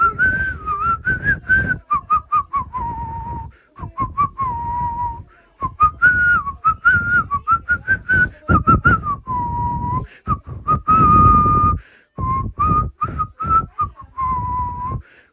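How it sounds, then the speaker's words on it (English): Someone whistles a melodic outro tune up close and alone, in phrases of varying pitch broken by short pauses for breath. "Here's me whistling my outro."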